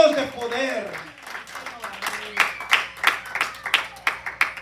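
A church congregation claps in applause, with sharp claps coming in a loose rhythm after a voice fades out at the start.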